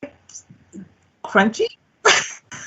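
A single sharp sneeze bursts out close by in a kitchen, set between bits of casual talk from nearby voices.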